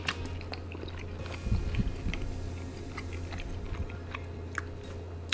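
Close chewing on the crunchy skin of a hot honey roasted wood duck, with a crisp bite around the middle and then steady soft mastication and small crackles, with no talk.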